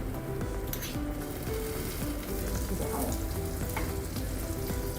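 A spiced veg burger patty fries on a hot tawa griddle, crisping on both sides with a steady, dense sizzle and crackle close up, unbroken and without any voices.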